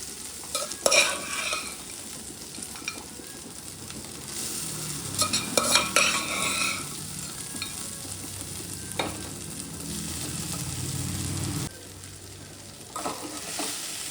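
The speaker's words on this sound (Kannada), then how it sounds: "ನೋಡಿ ಕಲಿಸ್ಕೊಳ್ಳೋಣ ನೀಟಾಗಿ" Cooked rice being stirred into a lemon rice mixture in a pan, with a steady scraping stir and soft sizzle continuing close up for most of the stretch, then briefly pausing before resuming.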